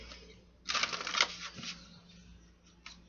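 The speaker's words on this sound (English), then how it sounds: "One more shuffle, my guides." A tarot deck is shuffled in a quiet room, one short soft riffle of cards followed by a faint tap or two.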